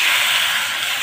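Meat poured into hot spiced oil sizzles in a cooking pot, making a loud, steady, close hiss with no voices.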